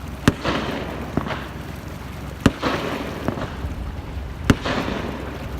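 Fireworks go off at Lake of the Ozarks, several sharp cracking bursts spaced a second or two apart, each trailed by a brief rumbling echo over steady outdoor background noise.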